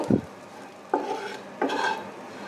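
Ground cumin and coriander spices stirred in a pan, with three distinct spoon scrapes against the metal over a faint background sizzle, close and fairly quiet.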